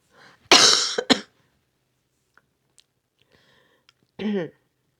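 A short burst of harsh coughs, then quiet with small clicks, followed by one more cough near the end.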